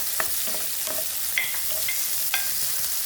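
Vegetables sautéing in a pan for a Filipino ginisang gulay, a constant soft sizzle with a few light scrapes and taps of stirring, close and fairly quiet, with no voices.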